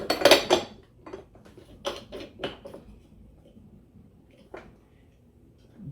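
Metal parts of a meat grinder clink and clatter as the housing goes on, with a dense burst of clanks at the start, then several sharp knocks and one later clack, all close and fairly loud with no talk.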